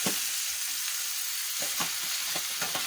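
Vegetables frying in a pan for a vegetable sauce to serve with white rice, a steady broadband sizzle broken by several soft scraping stirs, close up, with no talking.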